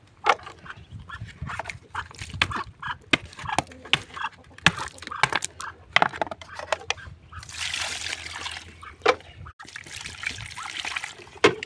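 Water trickling and splashing as a pigs' drinking trough is washed out, with intermittent knocks and snuffling nearby, and a heavier pouring gush in the second half.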